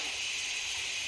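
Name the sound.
mustard seeds sizzling in hot oil in a pan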